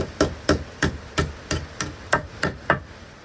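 About ten evenly spaced metallic hammer knocks ring out close by, each a sharp strike with a brief ringing tail, with no talking.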